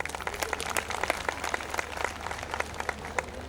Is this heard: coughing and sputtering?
no